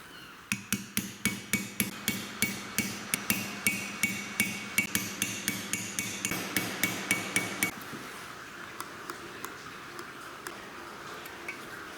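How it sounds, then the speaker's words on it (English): A hammer taps engine valve parts down during an engine build, with about twenty crisp, evenly spaced metallic strikes at a steady rhythm that then stop, leaving quiet background. "Sometimes you might have to tap them down"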